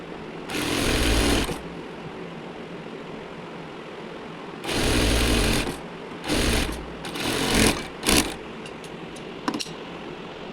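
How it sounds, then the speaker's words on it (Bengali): A home sewing machine stitches a nighty in bursts: a long run, a pause, then several shorter runs of rapid whirring stitching, close and clear with no talk. "প্রত্যেকে দেখছেন বইটুকু করে সেলাই করা হচ্ছে"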